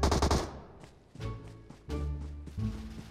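Gunfire in PUBG Mobile: a rapid, loud automatic burst at the start, followed by several shorter, heavy bursts spaced apart.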